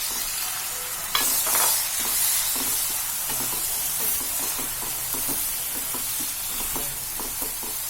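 Chopped tomatoes go into a frying pan and are stirred, giving a constant sizzle and hiss with repeated scraping strokes of a spoon against the pan at an uneven rhythm, close up and without speech.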